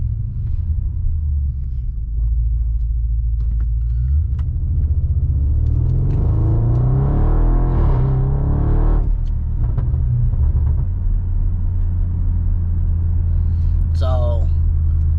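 Audi RS7 with newly fitted downpipes, heard from inside the car with the windows up: a loud, steady low exhaust drone that swells into a heavier rumble midway before settling back.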